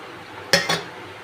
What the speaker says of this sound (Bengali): ধনেপাতাটা দিয়ে আমি একটু হালকা নেড়ে দেব।